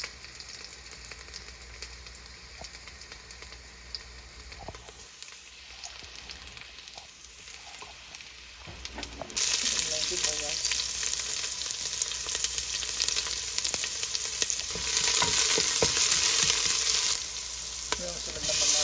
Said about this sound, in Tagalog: nagpainit na ng mantika at nilagay na yung bawang